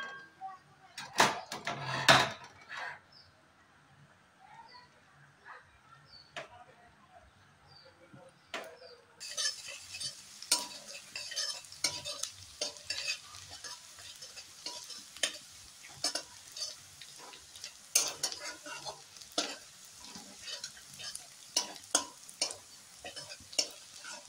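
Chopped garlic fries in a pan for white sauce pasta. A few scattered clicks and knocks come first, then a bright, steady sizzle starts partway in, broken by stirring scrapes at close range.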